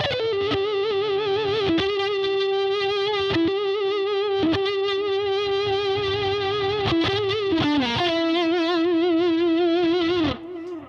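Electric guitar played through a Marshall DSL 20HR amp with a gain pedal, a sustained distorted note wobbling with a strange warbling effect, picked a few times and ringing out loud with no talk.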